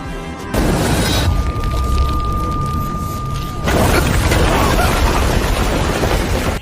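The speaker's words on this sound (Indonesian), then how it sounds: "Ledo dan Shena melempar dua buah granat tepat ke arah McQueen, yang menimbulkan ledakan besar" Two thrown grenades go off in a courtroom, a big blast that breaks through a wall: loud, dense roaring rumble that surges in at the start and swells again partway through, with a steady ringing tone underneath.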